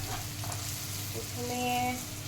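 Chopped garlic sizzles in hot oil for veg Manchurian, a soft steady frying hiss with a few light stirring sounds and faint tonal kitchen hums nearby.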